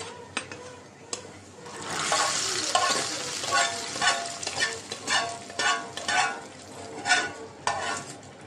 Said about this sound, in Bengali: পেস্টটা ভাজা হয়েছে।